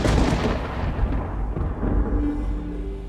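Thunder from a lightning strike rolls out as a deep, loud, continuous rumble that surges and swells for several seconds with no voices.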